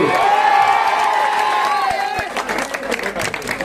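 A crowd at a political corner meeting claps and cheers in a loud burst that thins into scattered claps, with shouts heard over it.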